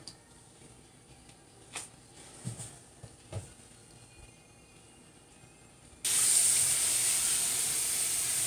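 Irish moss seaweed being rinsed under a running tap to remove sand and salt: a few soft handling knocks, then a steady loud hiss of flowing water that starts abruptly and continues to the end.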